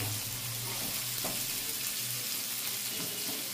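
Onions lightly frying in a pan, a soft, even sizzle held close and continuous, with a faint clink partway through and no voices.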